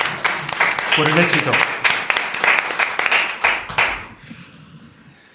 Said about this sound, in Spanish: darles un fuerte aplauso por